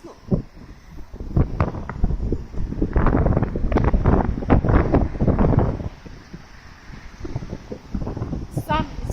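Wind gusts through tree leaves and branches, rising and falling in loud, rushing surges with heavy buffeting on the microphone, then easing to a steadier, softer rush near the end.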